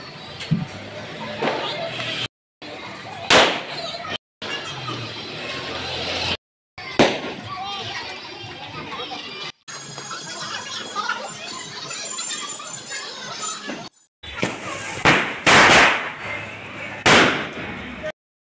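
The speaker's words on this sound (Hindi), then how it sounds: "पटाखा चला जल्दी फटाफट," Loud firecracker bangs burst out in a scattered series in Delhi, some close and sharp, amid crackling pops and people talking in the background.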